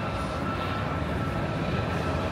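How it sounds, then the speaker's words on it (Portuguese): A propeller aerobatic airplane at the EAA Oshkosh airshow gives off a steady, dense engine drone at moderate loudness, unbroken through the whole stretch. "não acredito que eu tô vendo esse avião tão de perto"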